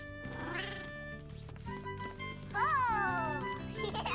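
A cartoon cat meows in a children's animated Valentine's story, a few drawn-out, rising and falling cries standing clearly above soft background music.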